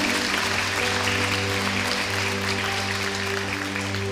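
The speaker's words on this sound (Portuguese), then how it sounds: "Aplauda o Senhor bem forte." Congregation at a women's church service applauding the Lord, a continuous dense wash of clapping over a sustained droning keyboard or organ chord, no speech.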